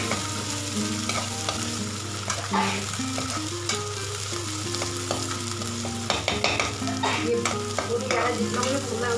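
Ginger stirred and roasted in a pan with a steady sizzle, the spoon scraping and clinking in repeated strokes close up, with no talk throughout.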